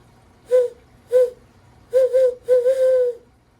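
A series of low hoots, two single calls followed by a longer run of four or five, in a rhythmic owl-like pattern.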